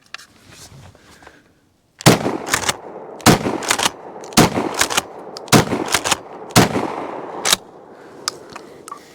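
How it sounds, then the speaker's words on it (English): A Benelli Nova pump shotgun with a 3.5-inch chamber fires five loud, sharp blasts of double-aught buckshot at an outdoor range, spaced roughly a second apart, each followed by a brief rumbling echo, after a few seconds of quiet. "Let me see if 5 rounds of double-aught buck will adjust his bad attitude."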